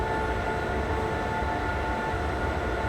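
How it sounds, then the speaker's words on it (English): A train rumbles along in the video game Train Sim World 2022, a dense, continuous low roar of rolling wagons and engine noise, loud and steady throughout with no voices. "I like to actually hear the noise of the trains"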